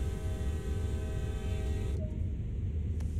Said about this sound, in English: sound the horn twice